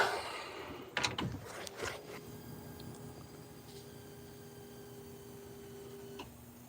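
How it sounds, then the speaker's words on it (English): An electric fuel pump primes on a 1963 Impala with a blueprint 350 and Holley Sniper fuel injection: a few quiet clicks, then a faint steady hum that runs for several seconds before cutting off. "Fuel pump come on, there it is."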